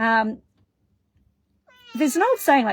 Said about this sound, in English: I've got to crack up about how many times you guys can hear the cat meowing in the background.